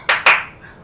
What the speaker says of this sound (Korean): 여러분 오디오 켜시고 박수 한 분만 크게 부탁드리겠습니다